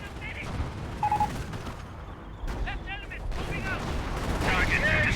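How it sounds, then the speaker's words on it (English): Nebelwerfer rocket barrage in Company of Heroes, a series of distant booms and crackling impacts mixed with whistling, warbling rocket tones and other battle noise at moderate loudness. "Nebel Warfare Barrage running on in, getting some good hits there."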